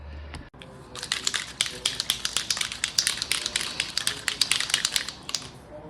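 Distress Mica Spray paint sprayed in a quick series of short, hissing bursts, fairly close and steady in rhythm, with no voices over it.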